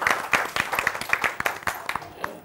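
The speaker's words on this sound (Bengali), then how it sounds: "জোরে করতালি" An audience at a women's quiz game show claps loudly in quick, uneven bursts that fade near the end.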